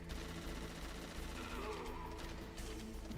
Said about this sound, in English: This guy I can just shoot with the MP5.